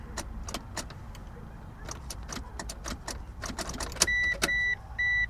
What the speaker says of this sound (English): you can hear the relays